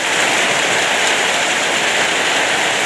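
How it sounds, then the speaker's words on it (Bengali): Heavy rain pours down after a hot sunny day, a dense, loud, unbroken hiss of drops beating on surfaces with no voices. "তো অবশেষে রহমতের বৃষ্টি"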